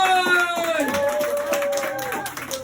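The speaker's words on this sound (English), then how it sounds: "Ladies and gents, a big round of applause for Nathan Flood!" A comedy club audience in County Kerry claps for comedian Nathan Flood, steady crowd applause under a loud sustained tone and talking voices.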